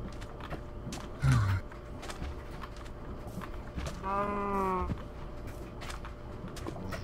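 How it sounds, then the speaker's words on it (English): Single short low moo from a cow in Minecraft, heard at moderate volume against a quiet game background with clicks and a brief creak, no talk. "Come here, cow."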